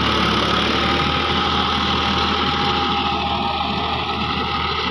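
John Deere 5405 tractor engine running steadily while pulling an 8-foot rotavator in a farm field, a loud continuous low drone with a constant churning rumble and no voices.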